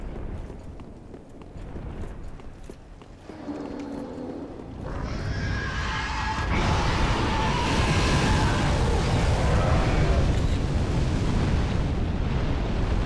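Roaring fire spread across the floor by a drake in the Dark Souls 3 video game, a steady loud crackling rush that swells after a quieter opening and holds dense and continuous to the end.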